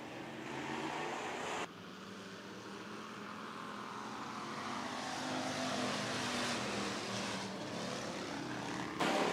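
Bomber race cars at Worthington Speedway roaring into turns one and two, a dense continuous engine drone from a distance that swells slightly as the pack goes by.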